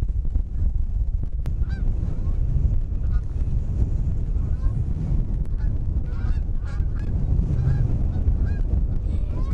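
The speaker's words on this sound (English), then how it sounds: "Looks like there's some geese." Geese honking repeatedly and struggling to fly into strong wind in Sanikiluaq, Nunavut, some calls near and others farther off, over heavy rumbling wind buffeting the microphone.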